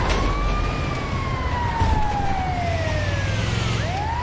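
Ambulance siren in GTA 5, a loud wailing tone sweeping up and down continuously over the hum of a moving vehicle, close and unbroken.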